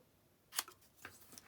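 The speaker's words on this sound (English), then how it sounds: "I'm just going to cut these in half" Scissors cutting a piece of paper card in half, a single crisp snip followed by a couple of fainter snips, close and quiet with no talk.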